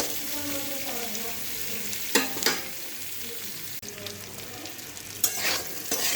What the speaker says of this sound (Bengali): আলু কচুগুলো প্রায় ভাজা হয়ে এসছে,